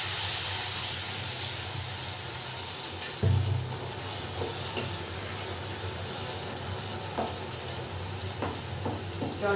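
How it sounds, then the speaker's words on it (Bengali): Small fish simmering in a sour curry in a pan, with a steady sizzle and bubbling hiss throughout, a brief louder splash of a little water poured in near the start, then soft stirring clinks. "এবার কিন্তু আমি একটু অল্প করে জল দেব"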